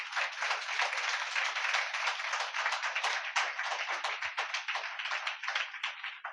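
A church congregation claps loudly and continuously in dense, sustained applause that fades slightly toward the end, with no voices standing out.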